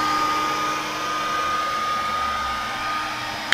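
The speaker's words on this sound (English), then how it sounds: "it doesn't take too long with the hair dryer." A hair dryer runs continuously at steady loudness, a close, even blowing whine with a constant motor hum and no pauses or voices.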